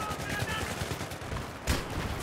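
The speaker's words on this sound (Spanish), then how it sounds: "Disparos everywhere." Bursts of rapid gunfire from the video game Battlefield 3, fairly quiet and crackling, with a sharper louder shot near the end.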